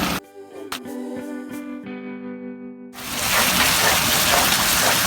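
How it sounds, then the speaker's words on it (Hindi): Semolina is stirred and roasted briskly in ghee with a spoon, giving a loud, dense sizzle and scraping hiss that rises after an earlier stretch of quieter ringing taps and clinks. "अब बस तेज़ तेज़ चम्मच चलाते जाएं और भूनते जाएं।"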